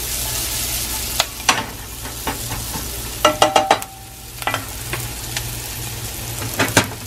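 Curry with meat frying in a pot on a medium stove, lobster, shrimp and salmon among the dishes, giving a steady close sizzle broken by irregular scraping stirs and short clanks of the spoon, with no talking.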